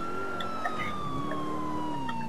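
A wailing electronic police siren in Grand Theft Auto IV sweeps slowly down in pitch over steady engine hum, with a few brief tonal blips mixed in.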